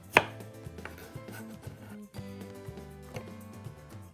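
Knife chopping garlic cloves on a board: a sharp first strike followed by several softer, irregular cuts, close and clear, with no talking.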